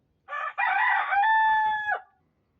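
Tiger hens at a small poultry farm where hens are laying eggs, with one chicken giving a single loud, drawn-out call lasting under two seconds, close by with no talking.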